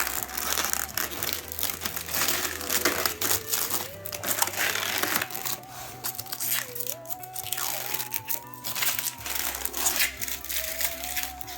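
Protective plastic film peeled off server hardware, a near, continuous crackling and crinkling rip that runs throughout with faint background tones.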